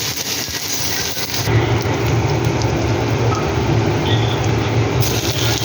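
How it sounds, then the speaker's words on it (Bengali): Paneer frying gently in a pan over a low gas flame, giving a steady, dense crackling sizzle that thickens and grows louder after the first second and a half and continues without any talk. "গ্যাসটাকে সিমে করে দিলাম, হালকা হাতে ভাজবো।"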